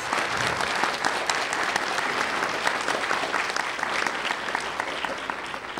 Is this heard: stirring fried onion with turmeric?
no